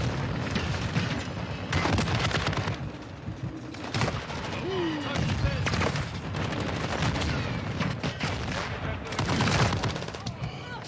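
A decoy grenade in Call of Duty Modern Warfare II (2022) mimics gunfire with loud, near bursts of rapid shots and booms. The bursts repeat through the scene, mixed with other game sounds and faint radio-style voices.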